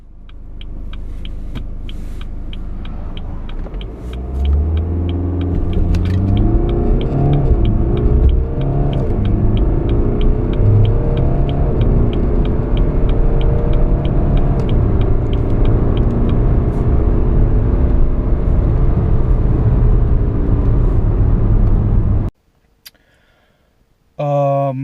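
A 2016 BMW 320d Efficient Dynamics Edition diesel sedan accelerates hard toward 100 km/h, a steady loud engine drone with rising gear pulls lasting about twenty seconds before cutting off abruptly.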